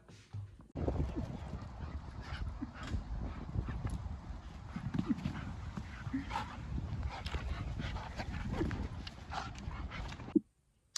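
Dogs at an outdoor dog park, with activity and movement sounds running steadily throughout and a sharp knock near the end.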